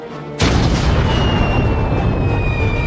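A cannon shell explodes in the One Piece anime: a sudden, very loud boom that continues as a dense, roaring blast without fading for several seconds.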